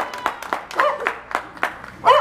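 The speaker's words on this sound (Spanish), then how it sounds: "El aplauso para ellos, fuerte, maravilloso, que se escuchen." A small audience at a mariachi birthday celebration for twins claps in sparse, uneven bursts, with voices calling out over the clapping.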